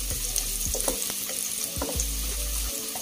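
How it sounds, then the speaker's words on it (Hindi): Onions frying to golden brown in a pan for masala broccoli, a continuous close sizzle broken by several short spoon scrapes and stirs, with no voices. "प्याज को गोल्डन ब्राउन होने तक इसको भून लेना।"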